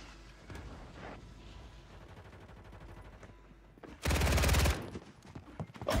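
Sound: gunfire in the video game Warzone 3

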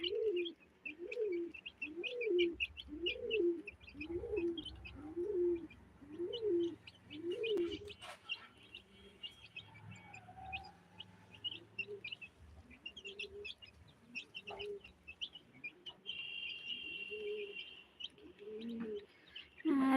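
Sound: baby chicks chirping while eating feed

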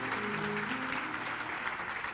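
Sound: students applauding for their teachers

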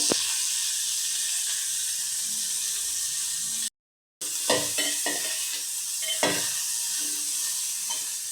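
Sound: bottle gourd curry ingredients frying in oil

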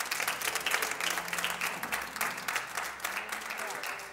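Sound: audience applause

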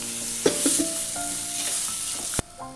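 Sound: onion paste sautéing in oil

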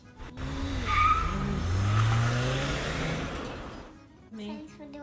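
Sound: child imitating a race car sound

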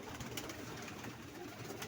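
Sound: pigeon cooing

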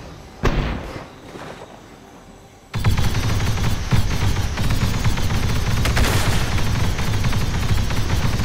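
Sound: grenade launcher firing in Roblox Clone Wars video game

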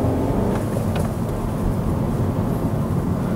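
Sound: Skoda Yeti manual car shifting into second gear

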